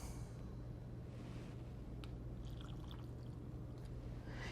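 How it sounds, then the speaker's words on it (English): Water poured into a jar of meat being prepared for pressure canning, a continuous steady pour with a soft liquid rush and faint clinks over a low background hum. "We're going to add some extra water to this"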